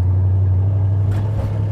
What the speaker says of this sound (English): Motor's running good.